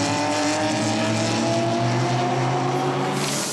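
GT race cars scream past at Zolder circuit in over 30-degree heat, a continuous loud engine roar with rising and falling pitch as several cars run by.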